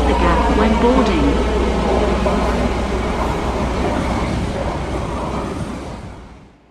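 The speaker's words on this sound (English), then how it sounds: "A 12 car train to Hong Kong is arriving." A Roblox East Rail R-Train rumbles loudly into a platform in the video game, a steady heavy rolling roar that fades out at the end, with a voice speaking over it.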